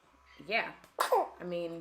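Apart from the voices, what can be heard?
baby sneezing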